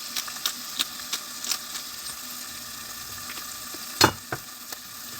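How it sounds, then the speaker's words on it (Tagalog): Minced pork sizzles with onions in a hot pan, a steady frying hiss with occasional sharper crackles and a louder pop near the end, heard alone without talk. "Ilagay na natin yung ating minced pork."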